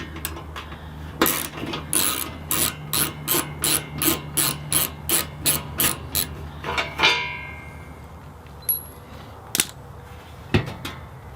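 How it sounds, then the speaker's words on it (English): A screwdriver backs two screws out of a wood boiler's housing near its damper. About a dozen evenly spaced rasping ratchet strokes sound close up, followed by a few sparse clicks and taps, with no talking. "so the first thing I need to do is take out these two screws"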